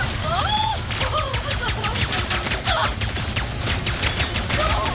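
Burst pistol shots in Ratchet & Clank: Rift Apart, sharp rapid clicks repeating across dense game combat noise, with voices and whooshing effects mixed in.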